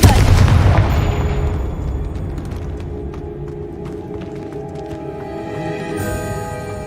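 A Confringo fire spell blast in Hogwarts Legacy hits with a heavy boom at the start, then rumbles and crackles as it decays over several seconds, with small sparkly ticks and a brief bright burst near the end.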